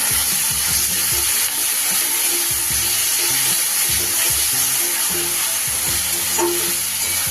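Chili paneer masala with chopped green chillies and ground black pepper is stirred in a sizzling pan, with a steady loud fry hiss and scraping stirs throughout, and no talking.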